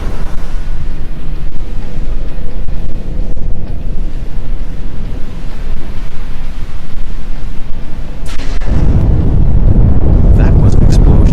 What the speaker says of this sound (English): That was an explosion of sufficient magnitude to cause a breach